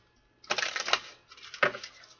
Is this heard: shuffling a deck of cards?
yes